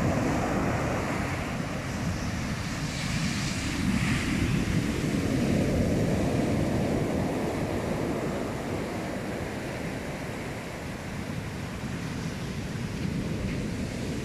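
Sea surf rolling onto a beach on a winter shore walk, a continuous broad roar of breaking waves mixed with wind buffeting the microphone, steady and fairly loud throughout with no voices.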